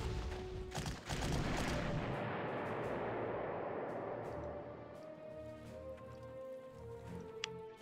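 Artillery fire in the WWII strategy game Panzer Corps at Second Alamein, a sharp close blast followed by a long rumbling roll that fades slowly over several seconds, with no talking.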